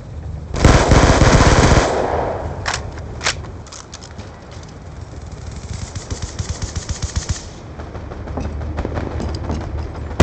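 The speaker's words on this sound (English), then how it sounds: "Be advised, hostile death machine spinning up." Death Machine minigun in Black Ops II spinning up and firing, with a loud sustained burst early, then a crackling stream of rapid shots and scattered single reports, alone without talk.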